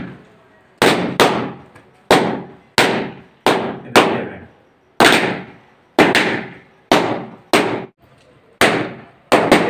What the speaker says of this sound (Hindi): अब इसी की सहायता से अपने पटाखों को चलाएंगे अपने